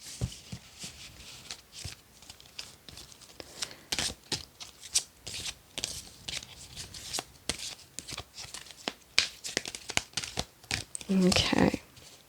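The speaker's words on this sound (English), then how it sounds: "let's give these just a little bit of a shuffle" Tarot cards are shuffled by hand on a table covering other cards, giving repeated papery riffles and soft flicks throughout, with a louder burst of card handling near the end.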